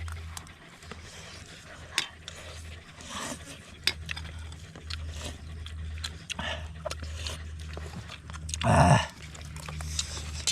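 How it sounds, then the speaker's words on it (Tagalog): Faint clattering and shuffling, then a single short, wavering dog whine rises briefly near the end before the background settles again. "May aso dito mga idol"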